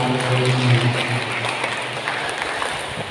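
A church congregation clapping at Sunday Mass, a dense, even patter of many hands fading gradually over a few seconds, with a faint hum beneath.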